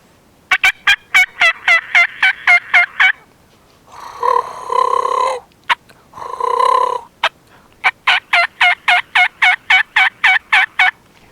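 A turkey mouth call with a V cut is blown in sharp, rapid clucking yelps in two quick series, broken in the middle by two longer raspy, purring purrs, loud and close with no talking.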